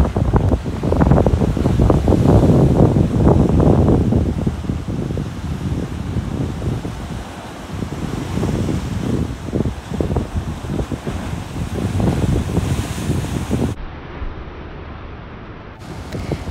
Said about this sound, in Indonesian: pukulan ombak tu terlampau kuat membuatkan air tu jadi putih macam tu.